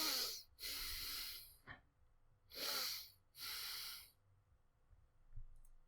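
Four breathy exhalations blow close into a microphone, each a loud rushing gust lasting about a second, separated by quiet gaps and faint clicks.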